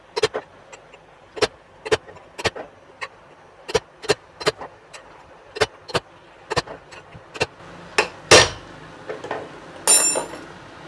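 An old screwdriver is tapped steadily against a ceiling fan part to punch it, giving a long run of evenly spaced, crisp metallic knocks up close, ending in a couple of louder, scraping clanks.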